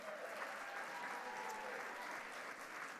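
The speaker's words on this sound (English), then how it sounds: "let's give her a round of applause as well" Steady applause from an audience at a leadership awards celebration, a continuous even wash of clapping heard from a distance and fairly quiet, with no talking over it.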